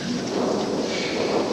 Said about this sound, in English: It's been pouring and thundering.